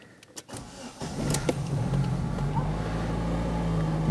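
A Fiat Siena engine cranks briefly and catches, then settles into a steady, close idle hum that holds to the end, with a faint voice at the start.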